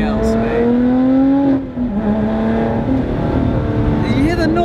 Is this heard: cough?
no